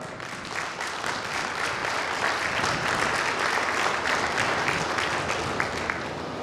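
A large crowd at a community gathering applauds as a guest is welcomed with flowers, a thick continuous roar of clapping that holds steady and fairly loud throughout.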